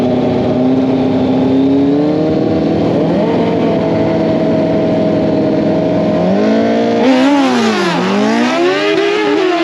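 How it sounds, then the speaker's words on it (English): A tuned 2005 Kawasaki ZX10R sportbike engine runs hard on a dyno, holding a loud sustained high-rpm whine before revving up and down in sweeping bursts near the end. "We're gonna see how this bike right here is running now that we got the tune in it."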